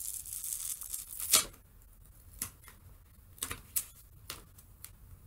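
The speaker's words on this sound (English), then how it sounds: "I was planning on putting this tape on there anyway, so this tape is super thick and it's sticking together" Thick, sticky tape pulled and pressed onto a mini desert plate mirror, giving quiet, scattered crackling tears and peels, with one sharper rip among softer ones.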